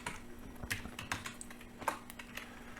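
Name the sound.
typing numbers on a computer keyboard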